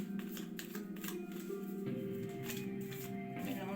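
A tarot deck being shuffled, a steady run of soft papery riffles and card flicks, close up, continuing under a low background hum.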